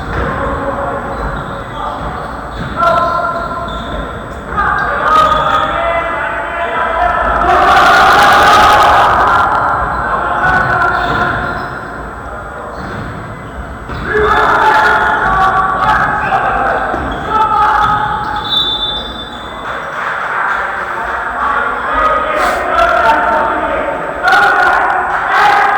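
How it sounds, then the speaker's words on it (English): A school crowd cheers in waves at a KIS versus KCC basketball game, the roars rising and falling in an echoing gym with sneaker squeaks and ball thumps, while a commentator talks over it. "There's also a lot of audience here cheering the team on."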